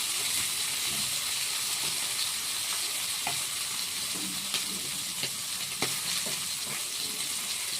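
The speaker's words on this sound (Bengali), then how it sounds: "উচ্ছে আলুটা পাশে দিয়ে দিয়েছি, ভাজা হচ্ছে।" Bitter gourd and potato fry in a pan with a steady, close sizzle and a few soft pops, heard alone without talk throughout.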